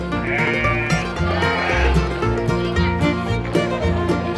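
Several sheep bleat over one another at a goat and sheep market in Kuningan, Indonesia, in a loud, continuous chorus of overlapping wavering cries, close by.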